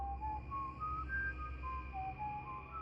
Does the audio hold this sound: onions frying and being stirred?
no